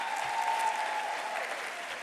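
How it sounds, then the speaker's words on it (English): An audience applauds steadily at an awards event, a dense patter of clapping at a fairly even level throughout. "let's give all of our ESPYs winners another round of applause"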